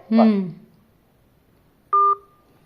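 A single short telephone keypad dialing tone beeps clearly once, right after someone briefly speaks, in a quiet room.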